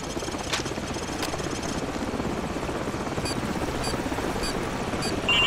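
Enemy helicopter in the Call of Duty Modern Warfare mission Hunted: a steady, loud rotor drone fills the whole stretch without pause, with faint high clicks and game effects layered over it and no talk.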